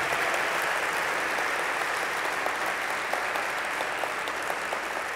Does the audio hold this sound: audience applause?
yes